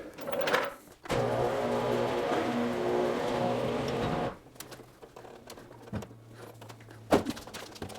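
A car sits in a garage after a front coil-over upgrade. It rolls out and back, with a steady mechanical drone for a few seconds, then quieter rolling creaks and a sharp knock near the end.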